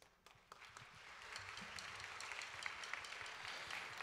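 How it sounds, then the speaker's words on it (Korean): A church congregation at a youth overseas short-term mission sending service breaks into sustained, dense applause that swells within the first second and holds steady at a moderate level throughout. "따뜻한 축복의 박수를 한번 좀 보내드립시다"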